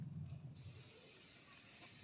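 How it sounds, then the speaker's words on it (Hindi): A hand sprayer mists pest spray onto terrace garden plants, a soft, steady hiss that starts after a brief low rumble and continues evenly, close by and fairly quiet. "चलतु आपन मु देखेबी केमती याको स्प्रे करा जिवो"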